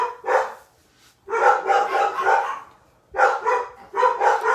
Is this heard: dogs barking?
yes